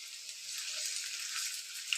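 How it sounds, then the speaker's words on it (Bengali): Small pakoras frying in oil over medium heat make a soft, even hiss of bubbling with faint crackles, heard alone and fairly quiet throughout. "আমি ছোট ছোট করেই ভাজছি,"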